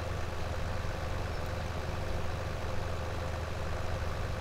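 Tractor from Farming Simulator 17 pulling a plough, its engine droning steadily at a low, even rumble throughout, moderately quiet with no talk.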